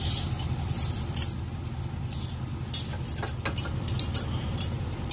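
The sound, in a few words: metal trailer safety chains rattling while hooked to truck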